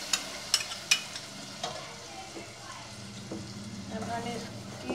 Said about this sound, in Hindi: अब हम इसकी 2 मिनट भुनाई करेंगे।